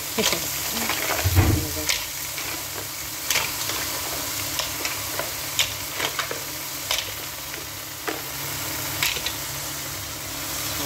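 Mussels (tahong) with tomatoes being stirred in a pan, with a steady sizzle and repeated scraping and clacking of the spoon and shells, and a brief low voice early on.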